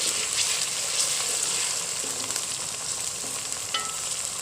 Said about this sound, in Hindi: ये हमारे अदरक लहसुन का पेस्ट और हरी मिर्च का। इन्हें हम अच्छे से भूनेंगे